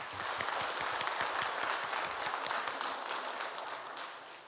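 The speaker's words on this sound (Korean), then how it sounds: "우리 박수로 축복하겠습니다." A church congregation applauds in a room, a dense wash of many hands clapping that holds steady, then begins to fade toward the end.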